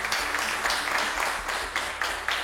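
A studio audience on the French game show Le Trône applauds two departing contestants, a full, bright burst of clapping in waves with sharper individual claps standing out near the end.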